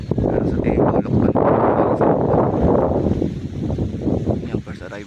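A strong gusty wind blasts against the microphone during a pigeon race arrival in Lucban, Quezon, in a loud, rough rumble that eases slightly toward the end.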